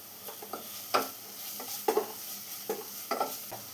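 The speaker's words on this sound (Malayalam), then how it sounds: "ഇപ്പം എല്ലാം കൂടെ നന്നായി മിക്സ് ചെയ്തെടുത്തിട്ടുണ്ട്." Spatula scrapes and stirs bitter gourd frying in a pan as chilli and turmeric powder are mixed in, giving irregular soft knocks and scrapes over a low sizzle, close by with no talk.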